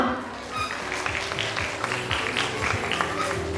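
A crowd claps steadily for a few seconds, a continuous patter of many hands at moderate volume.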